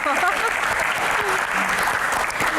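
Applause from a studio audience at a live Q&A show, steady and dense for the whole stretch, with voices mixed in beneath the clapping.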